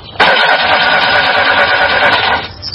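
A VAZ 2107 sedan engine cranks and catches, then roars steadily for a couple of seconds before cutting off; loud and close.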